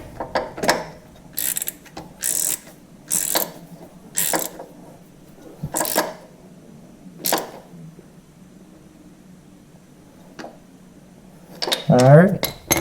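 A hydraulic filter screen is snugged up on a Kubota BX23s compact tractor, heard as a series of sharp ratcheting clicks in short bursts, close and fairly loud, ending with a brief metallic clatter.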